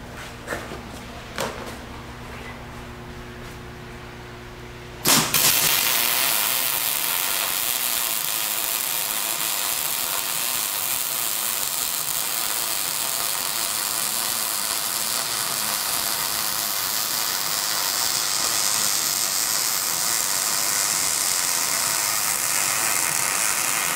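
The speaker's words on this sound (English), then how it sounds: "So now I got to weld on the bottom and then across the top." Welding on 3/16-inch steel: a few clicks and a quiet hum, then the arc strikes with a sharp burst and settles into a loud, continuous crackling hiss that runs steadily to the end.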